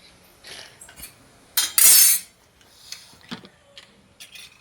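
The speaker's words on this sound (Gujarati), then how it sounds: "અને મમ્મી અહીંયા ખાવાનું બનાવે છે." Utensils clatter in a home kitchen as a mother cooks, with scattered metallic clinks and knocks around one loud, harsh burst of clanging at close range.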